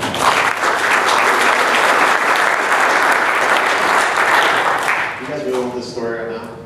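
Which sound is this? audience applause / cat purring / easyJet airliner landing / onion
audience applause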